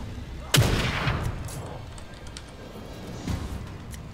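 A single sharp gunshot in the survival horror game The Evil Within 2 cracks out loudly and decays into a rumbling tail, followed later by a softer second shot, with no speech.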